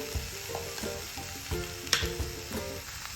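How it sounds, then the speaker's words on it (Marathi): Frozen peas with a spoonful of coriander-cumin powder fry in a pan for potato bread rolls, giving a steady sizzle broken by soft stirring scrapes and one sharp clack. "फ्रोजन मटार धना जिरा पावडर घालूया एक चमचा"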